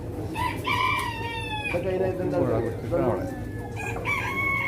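A rooster crows loudly nearby, twice, with hens clucking and other farmyard sounds in the background, at a livestock market in Jeddah.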